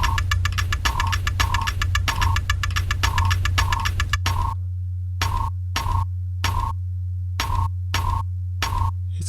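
A hand clock's ticking runs through a ring modulator, producing metallic, pitched ringing pulses over a steady low hum, first in a dense rhythmic stream and then as evenly spaced separate bursts with silent gaps. No talking.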